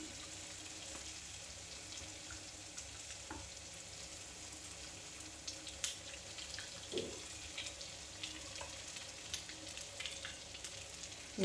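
Mustard seeds and cumin fry in hot oil as a tempering for dal curry, a faint steady sizzle with occasional soft pops and stirring clinks, quiet and without talk.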